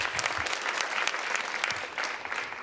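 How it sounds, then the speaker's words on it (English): A symposium audience claps for a panel, a dense, lively burst of many hands, loud and close, sustained for a few seconds with no break. "Can I get another round of applause for this panel?"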